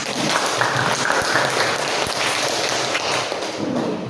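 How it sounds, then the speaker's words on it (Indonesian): An audience in a classroom session applauds the first presentation group, a dense steady clapping that is near and moderately loud for the full few seconds. "Aplaus dulu untuk kelompok pertama."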